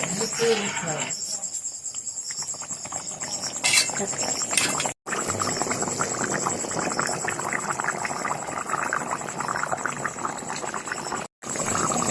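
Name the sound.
mutton curry boiling after adding hot water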